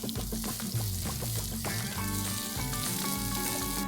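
Chopped garlic, green chili and capsicum frying in a pan for egg masala Maggi, a steady close sizzle with the stirring of a utensil and bright tonal ringing layered over it throughout.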